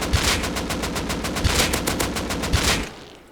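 Rapid automatic AK rifle fire in the video game Rust, a loud sustained burst of evenly spaced shots for about three seconds with no talking.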